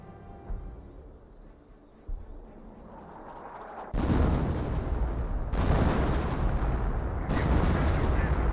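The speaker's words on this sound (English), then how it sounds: "Now here comes the extra 25-pounder barrage in this region." A 25-pounder artillery barrage in Company of Heroes: scattered booms at first, then a dense, loud roar of continuous shelling that swells in waves.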